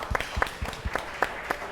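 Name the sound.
audience applause for donors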